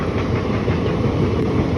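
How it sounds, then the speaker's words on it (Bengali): A train passing close by near Ayradanga station in rural Bengal, a loud, continuous low rumble and rolling rail noise filling the whole short stretch, with no talk. "এখান থেকে স্টেশনটা খুব কাছে আয়রাডাঙ্গা স্টেশন মানে ট্রেন যাচ্ছে"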